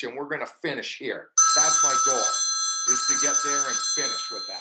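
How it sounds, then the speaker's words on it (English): A telephone rings with a steady electronic trill that starts suddenly and continues loudly beneath someone speaking throughout. "So I don't know if that's my phone or..."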